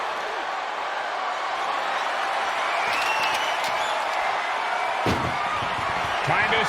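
An ambulance's rear doors slam shut during a WWE 2K24 wrestling match, sharp metallic bangs cutting through steady arena crowd noise and commentary, loud and close.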